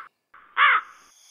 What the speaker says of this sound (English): The crow. Your cunning and your confidence are wonderful to see, but your singing voice, my friend, is pure cacophony.